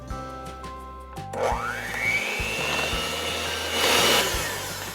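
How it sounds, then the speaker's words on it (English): A hand mixer whips cream in a bowl, its motor whirring steadily after a few clicks and starts, with a rising pitch as it spins up and a loud, close whine without any speech. "I want to see how long it takes when I use a hand mixer as opposed to doing it by hand"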